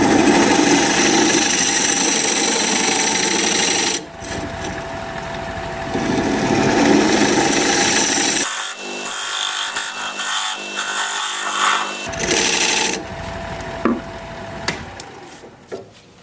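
Dovetail tool cutting the side of a wooden bowl spinning on a lathe, a steady rough scraping whir with the lathe motor humming, pausing briefly around the middle and resuming in bursts near the end.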